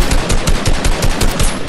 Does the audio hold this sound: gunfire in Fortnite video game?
yes